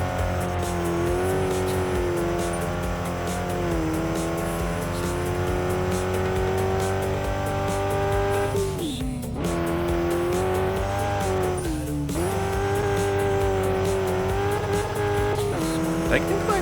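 A car engine droning and revving with tires squealing while drifting in a racing video game, a steady whining note that dips and rises, with a person talking over it.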